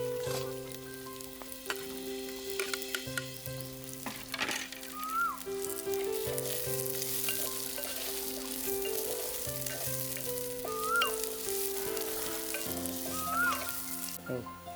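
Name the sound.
spices and onion frying in oil for veg manchurian gravy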